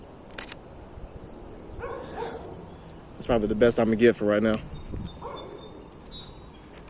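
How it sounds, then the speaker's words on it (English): A dog barks in the distance outdoors: faint, scattered barks against birds and insects in open countryside, partly under someone speaking quietly close by. "There's that dog barking again."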